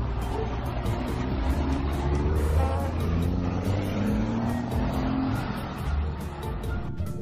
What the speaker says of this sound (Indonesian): yang ini ada truk gandengan teman-teman